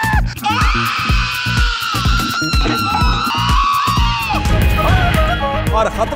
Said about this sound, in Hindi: 100 मील फी घंटे की रफ्तार से 200 फीट नीचे जाने वाला झूला बड़े बड़े दलेरों को खौफ के मारे चिल्लाने पर मजबूर कर देता है